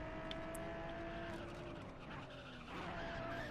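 A car skids and squeals its tires during a spin-out in the racing game Grid, with a steady engine drone running underneath throughout.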